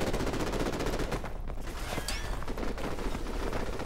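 Sustained rapid gunfire in Call of Duty Modern Warfare Remastered, dense overlapping automatic bursts and shots, loud and continuous throughout.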